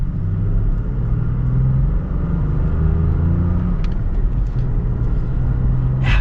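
A modified manual Toyota Tacoma pulls away in second gear, its engine holding a deep, steady rumble close up while the drone builds slightly, with a short burst of noise at the very end.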